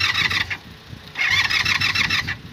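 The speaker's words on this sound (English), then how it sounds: "take a screwdriver, and that's how you start your bike" Motorcycle engine cranking after a screwdriver is bridged across the starter solenoid, two loud whirring bursts of the starter turning over with a short pause between, close up and without talk.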